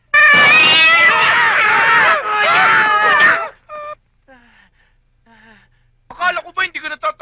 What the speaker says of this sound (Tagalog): Nagulat ako sa pusa.